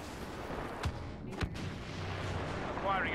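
Star Wars Battlefront gunfire, with two sharp blaster shots ringing out about half a second apart over a busy game soundscape, followed by a brief electronic whine near the end.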